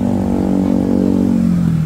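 A Honda CBR1000 sport motorcycle with a racing exhaust idles loudly and close, a deep throbbing growl whose pitch sags slightly toward the end.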